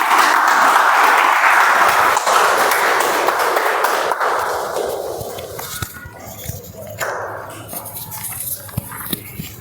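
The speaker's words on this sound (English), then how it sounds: "Toastmaster be brought to the stage with a huge round of applause." Applause from the audience at a Toastmasters club meeting as the Toastmaster is called to the stage, a dense, loud wash of clapping that slowly thins and fades, with a few scattered claps and faint voices toward the end.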